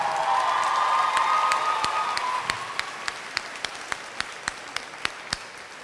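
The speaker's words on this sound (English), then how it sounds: "If we could give them a round of applause" An audience applauds parents and supporters at a fashion design recognition ceremony, with a loud wash of clapping and cheers that fades into a few sparse, distinct claps.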